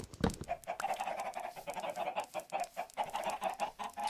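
Chickens in the Minecraft video game cluck steadily and close, a continuous run of short fowl calls repeating over a low game background, with no talking.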